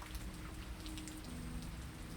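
Light rain ambience played through a vintage radio, a steady soft hiss of falling drops with no voices, quiet and even throughout.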